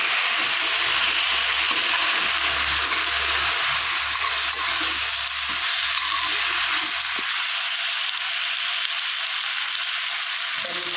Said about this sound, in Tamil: இதை கொஞ்சம் நல்லா நம்ம வதக்கிக்கலாம்.